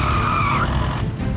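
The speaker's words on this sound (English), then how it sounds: "Oh no, Dad's spinning out of control." A cartoon car skids and spins out of control, its tires giving a loud high screech that slides downward and then gives way to engine rumble.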